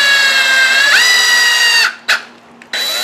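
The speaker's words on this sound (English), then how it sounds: "chuck your screw into your drill and insert it into your golf ball" A power drill whines at high speed while spinning a screw set into a golf ball, loud and close, then stops, gives a short burst, pauses and starts again.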